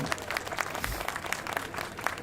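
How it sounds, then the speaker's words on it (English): An outdoor crowd at a Cherry Blossom Festival event applauds in a steady, even patter of many hands that carries through the whole moment without any speech. "Let's give them a round of applause."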